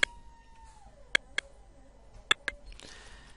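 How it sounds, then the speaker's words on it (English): A neighbour's cat meows softly in a quiet room, a few short sharp clicks or taps punctuating the near silence. "I've obviously spotted next door's cat again."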